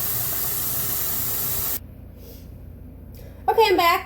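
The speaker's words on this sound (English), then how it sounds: "we're going to let that boil for 5 minutes" Water boiling in a pot on a stove gives off a steady, broad hiss that cuts off abruptly partway through, followed by quiet and then a person speaking.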